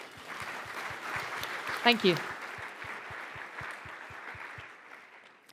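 Steady audience applause fills a startup pitch competition hall, continuing under a brief spoken thanks from a man and gradually tapering off near the end.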